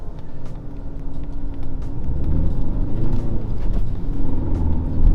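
An Audi A3 sets off on a lap of a race track, its engine rumbling loudly and building as it pulls away, with a steady low drone and a rising note as the car accelerates.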